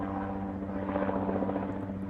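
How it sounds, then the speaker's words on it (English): A helicopter passes overhead near an airport, a loud steady rotor drone with low throbbing that fills the whole stretch without letting up. "Excuse the helicopter."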